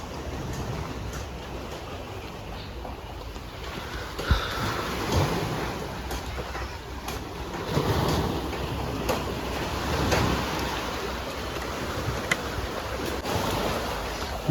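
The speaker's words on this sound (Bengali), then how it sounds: "জলের আওয়াজ আপনারা শুনতেই পাচ্ছেন একেবারে জল ক্যাম্পের সামনে চলে এসেছে" Water lapping and washing right up to the front of a riverside island camp on Mousuni Island, a steady broadband wash with soft surges and a few small splashes, close and continuous with no voices.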